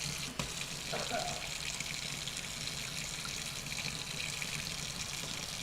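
Water tap running steadily into a sink while hands are washed in a garage, a continuous close splashing rush with a brief clunk near the start.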